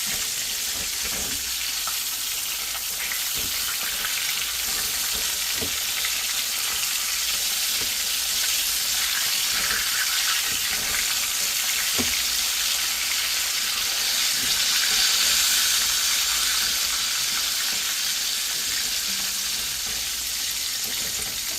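Snapper fillet sizzling in a frying pan right after being flipped, a steady close hiss of frying oil with small crackles and light clinks of utensils throughout, no talking.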